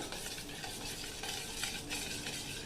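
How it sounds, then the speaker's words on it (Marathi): Curd mixed with sugar and salt is stirred in a bowl for boondi raita, giving a steady, soft scraping swish that runs continuously at close range with no voices. "हे छान हलवून घ्यायचं"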